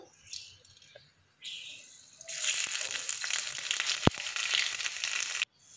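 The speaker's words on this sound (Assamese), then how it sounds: "এতিয়া একেখিনি তেলতে মই দি দিছোঁ শুকান জলকীয়া পাঁচফোৰণ" Dried red chillies and panch phoron tossed into hot oil left from frying fish, giving a sudden loud sizzle and crackle that builds after a few quieter rustles and continues steadily before stopping abruptly.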